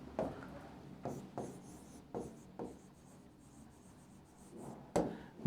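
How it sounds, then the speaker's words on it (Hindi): Quiet marker or chalk strokes on a classroom board during a Hindi biology lesson, a series of short scratchy bursts spaced about a second apart with soft rubbing in between. "ब्रेकियल की स्पेलिंग थोड़ी सही लिख देता हूं"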